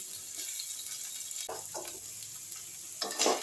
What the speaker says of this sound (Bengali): লো টু মিডিয়ামে গ্যাসটা রেখে একটু আদা রসুনটাও আমি ভালো করে কষে নিচ্ছি